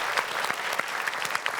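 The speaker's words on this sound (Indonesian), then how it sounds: "Boleh tepuk tangan." Studio audience of an Indonesian TV quiz show applauds, a steady dense patter of clapping filling the room at even loudness throughout.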